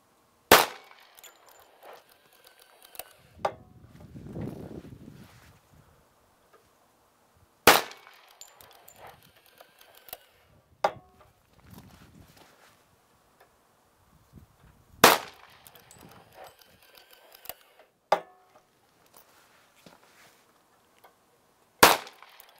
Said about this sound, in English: And there you have it, five shots.